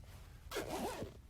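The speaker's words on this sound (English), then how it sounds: "My zipper broke." A clothing zipper gives one short, quick zip about halfway through, close and fairly clear over a quiet outdoor background.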